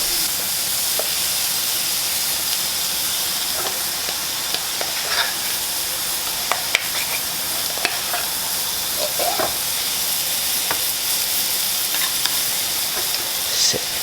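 Steak frying in a pan just after being flipped, giving a loud continuous sizzle and hiss with small pops and crackles throughout, close and steady.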